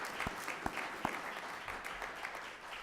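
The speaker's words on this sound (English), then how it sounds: "let's give all of them a round of applause." An audience at a Black History Month honorees event applauds, a steady wash of clapping with a few distinct loud claps near the front, fairly quiet and sustained throughout.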